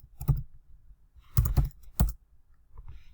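Keys clack on a computer keyboard in a few short, sparse bursts of quick strokes, close and fairly quiet against a silent background.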